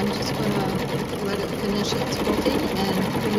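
Embroidery machine quilting a lace zip bag in the hoop, a steady whirring, chattering mechanical drone that runs continuously throughout at close range with no pauses.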